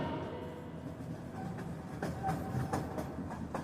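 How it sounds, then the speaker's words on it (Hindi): A train departing Banaras station, a low rumbling roll with rhythmic clickety-clack of wheels over rail joints growing a little louder toward the end, heard without speech. "ट्रेन बनारस से रवाना होती है।"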